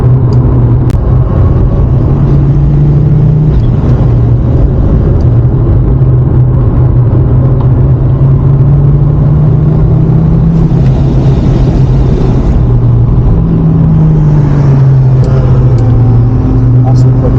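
An Audi RS2 Avant engine roars loudly from inside the car on a race track, its pitch climbing and dropping through gear changes under a constant heavy rumble.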